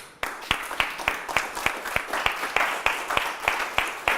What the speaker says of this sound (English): And I want to give you a round of applause